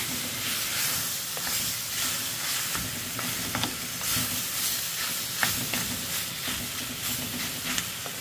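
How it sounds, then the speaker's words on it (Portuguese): Meat sizzles and crackles steadily in its own rendering fat, with small pops and spatters throughout and no voices. "Como ela já tá aqui, ó, fritando, saindo gordura"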